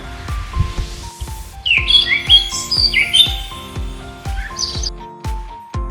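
Canary calls and squawks repeat in quick bursts, sharp bright chirps alternating with sustained whistled notes, loud and close with no voices.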